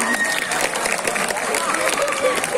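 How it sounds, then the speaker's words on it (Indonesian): Applause at a school Arabic poetry recitation contest in an Islamic junior high hall, a steady wash of many hands clapping together, sustained and moderately loud for the whole moment with voices mixed in. "Berikan tepuk tangan yang meriah."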